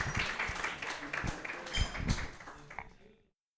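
A church-style gathering audience applauds to welcome a woman giving a testimony, a brief burst of clapping mixed with voices that fades out after about three seconds.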